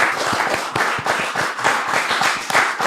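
A small group claps to welcome comedian Chris Spencer onto the first tee, a brief burst of brisk, close applause lasting a few seconds, with no speech over it.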